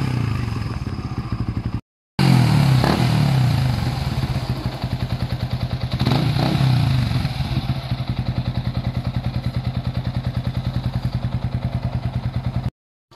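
Repaired motorcycle engine idling smoothly nearby without rattling, a loud, steady rapid thumping putter with a couple of brief revs, and a short gap near the start.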